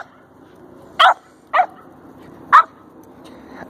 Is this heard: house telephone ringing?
no